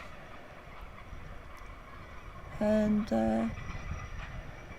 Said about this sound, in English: you'll see the tram there.